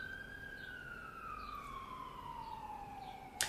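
An emergency vehicle siren wails steadily outside, a single long tone slowly falling in pitch over a few seconds, moderately distant and heard alone with no talking, ending in a brief sharp noise.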